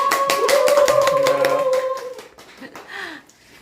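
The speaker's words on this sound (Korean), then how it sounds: "박수 부탁드립니다" Clapping from a lecture audience at a Korean geology museum talk, with sharp claps layered over a sustained musical tone for about two seconds before thinning into scattered claps and fading.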